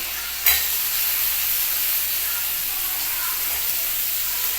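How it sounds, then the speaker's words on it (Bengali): Onion and potato frying in mustard oil give a steady broadband hiss and sizzle, beginning with a brief sharp burst as they hit the pan and then holding at a moderate, even level. "এবার আমি ডিম পাতুরির জন্য পেঁয়াজ আলুটাকে সর্ষের তেলের মধ্যেই ভাজা হবে"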